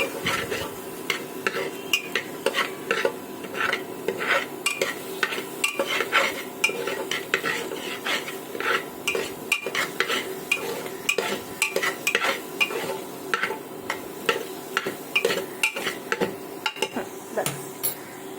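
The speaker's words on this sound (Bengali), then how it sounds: "আর এটাকে একটুখানি নাড়াচাড়া করব" A utensil scrapes and clacks around a cooking pan while vegetables are stirred, a steady run of sharp, irregular taps and scrapes close by, with a faint sizzle beneath.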